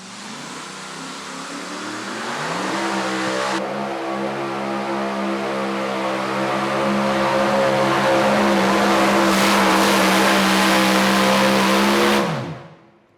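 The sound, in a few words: Chevy S10 super modified 2wd pulling truck engine at full throttle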